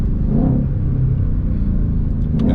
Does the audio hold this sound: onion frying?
no